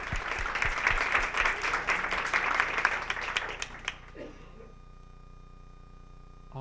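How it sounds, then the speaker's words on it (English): Conference audience applause at a climate education summit after a student presentation, a dense round of clapping for about four seconds that stops abruptly, leaving a quiet hum. "can we get one round of applause for that first presentation?"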